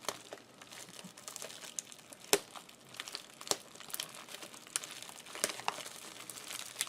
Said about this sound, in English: lift this tape a little bit